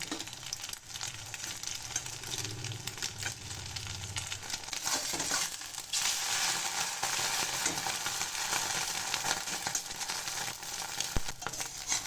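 Egg omelet frying in a pan, with a steady close sizzle and crackle, occasional stirring scrapes, and no talking.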